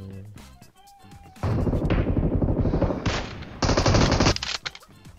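Automatic gunfire from the PUBG Mobile video game, long sustained bursts of rapid shots, loud and close, with a brief pause between two volleys and faint voices before.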